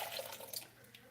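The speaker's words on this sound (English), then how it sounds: "you take what you made, pour it in" Hot cocoa poured into a cup, a soft steady trickle of liquid heard close up and faintly, with a gentle splashing texture throughout and no talk.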